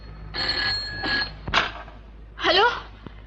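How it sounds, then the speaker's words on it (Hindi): A telephone bell rings in two bursts with a pause between, followed by a sharp click and a short rising electronic warble, in a Bollywood action film. "खाने की घंटी नहीं है, टेलीफोन की घंटी है।"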